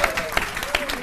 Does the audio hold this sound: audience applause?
yes